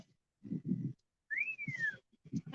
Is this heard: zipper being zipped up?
no